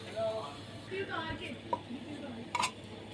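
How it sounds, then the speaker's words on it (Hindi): A spoon scrapes and clinks against a pan while bread crumbs roast over a low flame, a few short metallic taps and scrapes mixed with someone speaking. "इस तरह से आपने चम्मच बराबर हिलाते रहना है ताकि ये जल ना जाए।"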